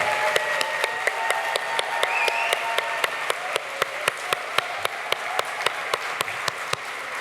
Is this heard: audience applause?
yes